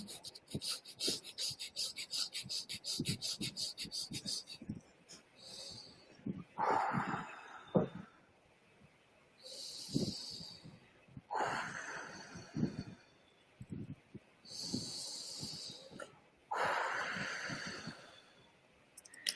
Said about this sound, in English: I'll do poison breathing in a very low intensity